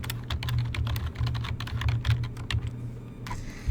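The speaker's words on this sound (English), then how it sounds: "Now, as I type in that information" Someone types information into an online Excel survey form on a computer keyboard, producing rapid, uneven clicking keystrokes close to the microphone with no speech.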